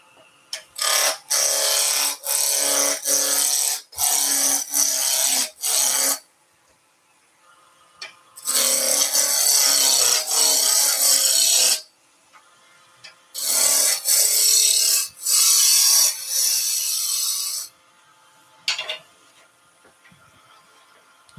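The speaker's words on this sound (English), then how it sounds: "And I'm going to go with the roughing gouge to start us off." A roughing gouge cuts a small wooden blank spinning on a lathe, about 50 mm across, giving loud rasping, scraping bursts in three long runs separated by short pauses, with no talk over it.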